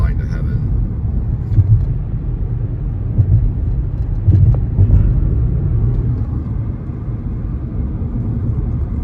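Road traffic near DFW in Texas, a steady low rumble of passing cars with no clear breaks, heard from a moving vehicle while music plays faintly over it.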